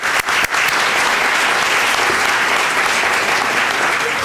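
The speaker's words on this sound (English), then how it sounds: "Let's give them all a round of applause." Audience at the State of Women and Girls Summit breaks into sustained, dense applause for the event sponsors, loud and close, filling the whole stretch without a break.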